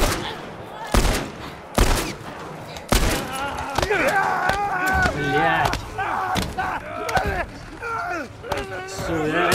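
Gunfire in The Last of Us Part I, with several loud shots and bursts cutting through busy game sounds, while people talk excitedly over the action.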